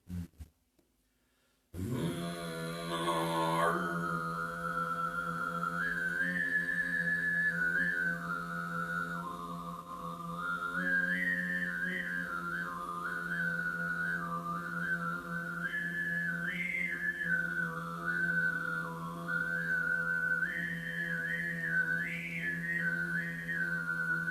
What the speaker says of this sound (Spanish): se obtiene otro estilo que se llama sigit, que significa el silbido